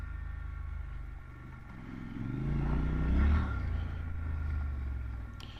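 A Triumph Scrambler 1200 XC motorcycle riding on gravel, its engine droning steadily with a swell in loudness midway, plus faint crunching and rattling from the loose surface.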